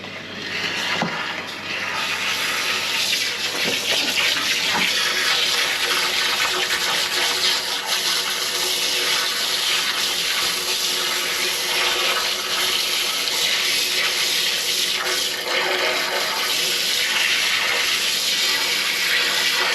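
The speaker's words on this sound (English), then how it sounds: "we're going to pump a load of water down that manhole and see if we can get it moving" A sewer jetter pumps a heavy flow of water down a sewage manhole, producing a loud, steady rushing and gushing that continues unbroken for about twenty seconds, with no talking.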